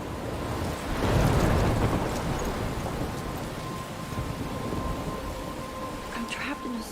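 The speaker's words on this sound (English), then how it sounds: "I'm trapped in a storm?" Thunderstorm and rain in the video game Life is Strange, near a lighthouse: a dense wash of rain and wind with a rumbling swell of thunder early on, steady and fairly loud throughout.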